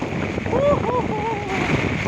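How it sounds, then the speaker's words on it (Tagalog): Strong, gusty wind buffets the microphone beside the flood-swollen Marikina River in a roaring, steady rush, with faint voice-like tones drifting over it. "Medyo malakas ang hangin."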